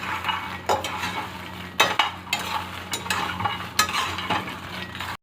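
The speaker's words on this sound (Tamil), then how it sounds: "கண்டினியூஸாக 5 மினிட்ஸ்க்கு எல்லா பவுடரும் மிக்ஸ் ஆகிற மாதிரி கலந்துக்கோங்க" Makhana (fox nuts) tossed with spice powder in a pan make repeated scraping sweeps and metallic spoon clinks over a dry, rustling sizzle.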